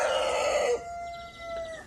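Two roosters crowing outdoors on a small poultry farm, one long loud crow fading out, then a thinner, more distant crow answering behind it.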